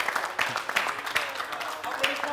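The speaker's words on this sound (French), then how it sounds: "Merci de l'applaudir." Studio audience applause on a TV show in Burkina Faso, light scattered clapping at moderate distance, brief and steady.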